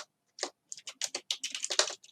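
An email address being typed on a computer keyboard: a brisk burst of about a dozen crisp, close key taps in uneven rhythm, alone against silence.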